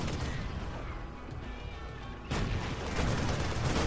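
Marines and siege tanks fire in a StarCraft II match on Abyssal Caverns, a steady crackle of gunfire that swells into heavier booming shots partway through, with no clear talk.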